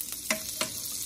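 Garlic butter sizzles steadily in a hot pan during stir-fry prep, a close, continuous frying hiss with a couple of brief stirring scrapes on top.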